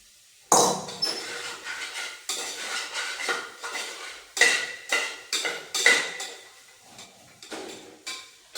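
Cooked soybeans mixed in a metal pot, with a spoon striking and scraping the pot in a quick series of sharp clanks and clatters, close and fairly loud, then tailing off.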